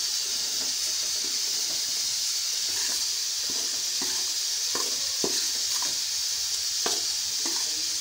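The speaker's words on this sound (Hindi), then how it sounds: "घी में सूजी को हम भून लेंगे।" Semolina roasting in ghee over low heat, a steady soft sizzling hiss under repeated light scrapes and clicks of a spoon stirring through the grains, close and even.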